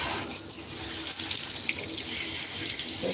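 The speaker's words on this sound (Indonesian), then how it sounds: "Cuci muka dulu." Tap water runs steadily into a sink during face washing, a continuous loud splashing rush with small shifts in the flow, heard close without any talking.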